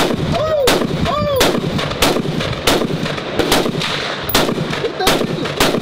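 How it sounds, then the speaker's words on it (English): A new AR-15 rifle without sights or attachments fires a fast string of loud, sharp shots, roughly ten evenly spaced reports in under six seconds, with brief excited voices shouting between them. "Black be really shooting that bitch for real, boy"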